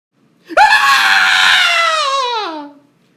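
A woman lets out one loud, sustained scream lasting over two seconds that slowly falls in pitch as it trails off, heard alone and close.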